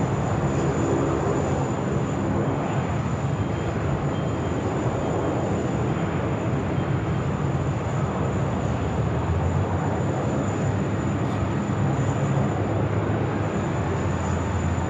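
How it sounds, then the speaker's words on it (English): A Qantas A321XLR airliner takes off at Sydney Airport on its delivery flight, a loud, steady broadband engine roar with deep rumble that fills the whole stretch without letup. "We're now cleared for takeoff."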